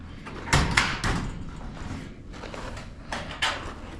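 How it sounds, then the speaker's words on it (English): A few quick metallic clacks and rattles of a shed's double-door latch being worked, with some rustling between, close by. "It's got a little latch right here to undo it."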